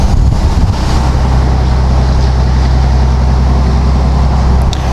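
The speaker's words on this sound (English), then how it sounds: "All you can hear is the wind from the windows being open" Steady, loud wind roar rushes through the open windows of a moving 2021 Ram 2500 pickup on 35-inch Toyo Open Country AT3 tires, over a constant low road and engine rumble, with no talking.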